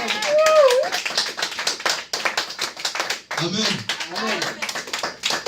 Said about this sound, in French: Est-ce que nous pouvons acclamer pour Dieu?